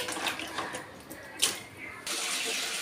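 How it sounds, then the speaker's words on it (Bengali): Cucumber and potatoes being washed by hand in water, with soft splashes and sloshing up close, then a steady rush of running water toward the end. "শসা আলু ভালো করে ধুয়ে নেব।"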